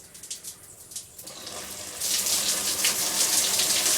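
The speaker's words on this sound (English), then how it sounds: "And I'll go ahead and turn the water on." A water tap turned on for a cheap homemade solar hot water shower, starting with light trickles before a steady, loud broadband rush of flowing water that continues to the end.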